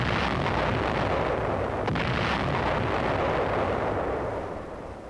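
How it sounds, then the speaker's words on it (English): Naval floating artillery firing off a harbor front in wartime, a dense continuous roar of booming gunfire and blasts that stays loud throughout and eases slightly near the end. "Floating artillery holds back an enemy which will finally be allowed to take possession of the heap of rubble"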